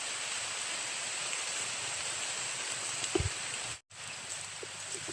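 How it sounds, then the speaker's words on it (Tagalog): Heavy rain falls steadily outdoors as a dense, even hiss, fairly loud and continuous, with a brief dropout near the end and no talking. "kahit malakas yung ulan, tuloy lang tayo"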